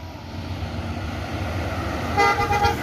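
A Gumarang Jaya intercity coach in West Sumatra rumbles as it pulls away, its engine a steady low drone, and near the end the horn sounds a short, loud blast.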